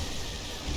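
Lightning strike with a thunder rumble in the Dark Souls video game, a broad steady roar with a heavier low swell near the end, alone with no voices.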